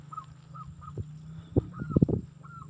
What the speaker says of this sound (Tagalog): Yan, nagtugpahan na yung mga manok natin.